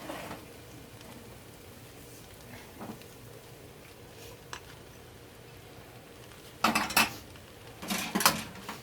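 Shrimp drop into lo mein noodles in a pan for Trinidad Chinese shrimp lo mein, a quiet kitchen bed broken near the end by two bursts of clattering utensil and pan knocks close by.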